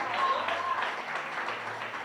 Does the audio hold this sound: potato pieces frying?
no